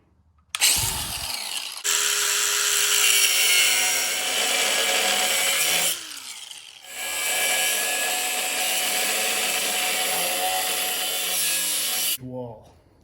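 Power tool cuts loudly through the metal pinch weld on a 100 Series Toyota Land Cruiser body in two long sustained passes, with a brief pause between them and a short clatter at the start.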